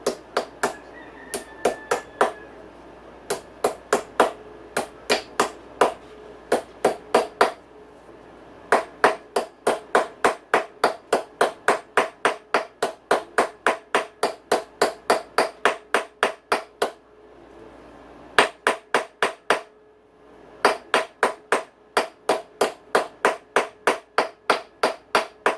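A hammer drives a steering stem bearing into place on a dirt bike, sharp metallic blows in fast even bursts separated by short pauses, close and loud.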